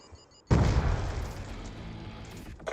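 A Semtex explosion in a video game goes off as one sudden loud boom that fades into a long rumbling tail, with no voices over it.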